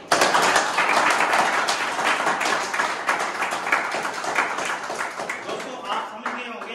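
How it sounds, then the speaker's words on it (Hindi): A group of academy students applauds the selected cadets after a commando training selection test, a dense burst of clapping that stays loud at first, then thins and fades, with voices mixed in. "जो सिलेक्टेड हुए हैं, उनके लिए दिल से ताली मारेंगे सभी"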